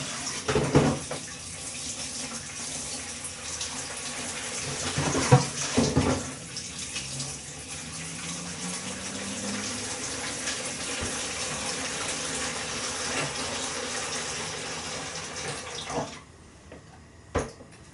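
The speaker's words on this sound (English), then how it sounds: "we're going to put some hot water in the bowl" Hot water runs steadily from a kitchen tap into a bowl while baking a chocolate fudge cake, a continuous close splashing flow lasting most of the stretch before cutting off near the end.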